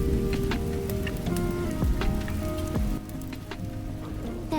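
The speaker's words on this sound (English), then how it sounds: "I do have lo-fi rain playing." A lo-fi rain recording plays as a steady wash of rain patter with soft musical tones mixed in, continuous and fairly loud, dropping slightly in level near the end.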